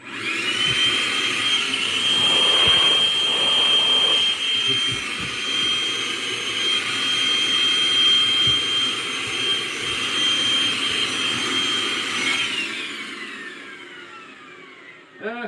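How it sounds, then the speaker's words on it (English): Milwaukee vacuum cleaner hoovering up debris after an RC truck upgrade, a loud steady whine running nearly continuously close up before cutting off near the end, with no talk over it. "Get the old Milwaukee out and hoover all this away."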